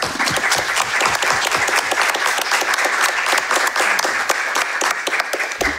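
A crowd at a Brazilian political event on power, crisis and insurgency claps steadily and warmly, a dense sustained wave of applause with no talk over it.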